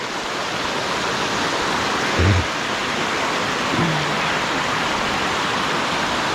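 Water rushes steadily down slippery rocks in a natural stream on a wooded rural property, a constant loud broadband wash with no breaks. Two brief low thumps cut through the flow partway along.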